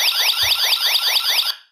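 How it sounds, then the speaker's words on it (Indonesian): A security alarm device sounds a loud, urgent warbling siren that sweeps up and down in rapid repeating cycles, close and steady, then cuts off, with no voices. "atau bunyi yang bahaya yang cocok untuk alarm keamanan"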